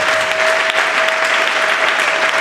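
A church congregation claps and cheers in praise of the Lord, a steady dense wash of applause filling the room without pause, with a faint sustained tone running underneath.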